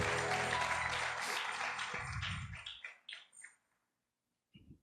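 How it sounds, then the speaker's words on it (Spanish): A church congregation claps hands loudly in worship, with dense sustained clapping that tapers into a few scattered claps, then falls silent before one final clap. "Démosle fuerte palmas"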